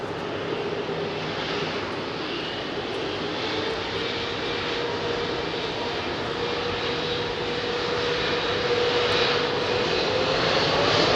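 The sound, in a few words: Airbus A380 jet departing Heathrow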